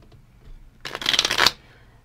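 Tarot cards shuffled briskly in one short close burst of riffling and slapping, lasting under a second, alone in a quiet room.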